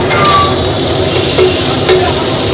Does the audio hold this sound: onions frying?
yes